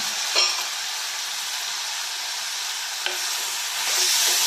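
Raw green mango sautéing in a pan, a soft even sizzle with light stirring scrapes and a brief clink, growing slightly louder toward the end, no voices.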